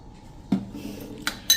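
A spoon clinks against a bowl while a shampoo-based hair mixture is prepared, making three sharp, close taps spread over a quiet moment.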